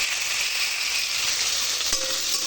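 Onions fried until reddish, then taro pieces added to the pan for a tamarind and tilapia sour curry. A constant, even hiss of hot oil plays throughout, with one brief knock near the end.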